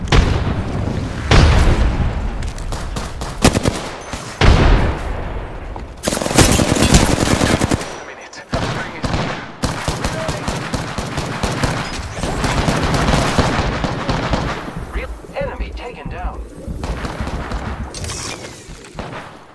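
Gunfire and grenade blasts in an Apex Legends battle: dense bursts of automatic fire and booming explosions come thick and loud throughout, with only brief lulls between volleys.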